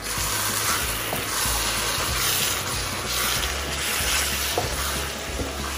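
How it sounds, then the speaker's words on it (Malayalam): Pepper and fennel powder are stirred into a simmering duck roast with coconut milk, a steady close sizzle and scraping stir running continuously without talk. "ഇതെല്ലാം കൂടെ ചേർത്തിട്ട് നമുക്കൊന്ന് ഇളക്കി കൊടുക്കാം"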